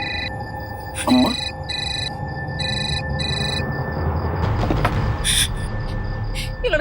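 A telephone rings in repeated electronic bursts, going unanswered, with a voice and background noise in between and a clatter partway through.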